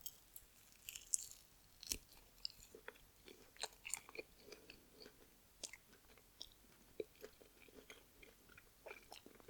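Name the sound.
eating lemon pepper chicken wings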